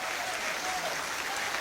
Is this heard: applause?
yes